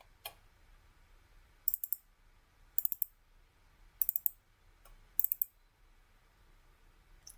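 Computer mouse clicks while working in QGIS software, arriving in four quick double- and triple-click bursts spaced about a second apart, close and crisp over a quiet room hum.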